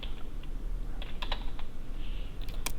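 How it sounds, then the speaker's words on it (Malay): Computer keyboard keys are pressed a few times as isolated soft clicks, including a Shift+Tab press, over steady room hum with no talk. "Tuan-puan boleh tekan shift tab pada keyboard"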